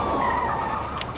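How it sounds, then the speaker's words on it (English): A car brakes hard in a crime documentary reenactment, giving a brief, loud tire screech that slides downward in pitch over about a second. "In an instant, the driver slammed on the brakes."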